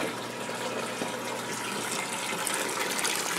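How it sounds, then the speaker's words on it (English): Water from a Vankel VK 750D external heating circulator gushes steadily into a bucket, a constant close splashing pour with no speech. "The rear of the unit, we have it pumping into a bucket."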